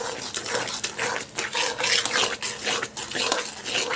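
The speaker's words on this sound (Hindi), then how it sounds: "तो ये चीनी डाल के फिर मिक्स करती हूँ मैं" Sugar stirred into a sweet dish mixture for a festive thali, a steady scraping and rubbing of a spoon against a metal pot, with rhythmic strokes and occasional clinks close by.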